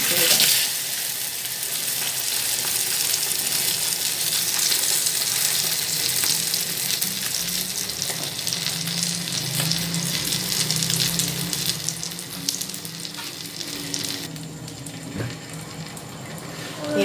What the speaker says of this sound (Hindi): अब देखिए मैं ये सेकंड पिज़्ज़ा फ्राई करने लगी हूँ।